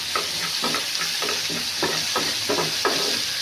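Chopped ginger hits vegetables frying in a pan, a steady close sizzle with rhythmic scraping strokes of a spatula repeating about twice a second, no voices.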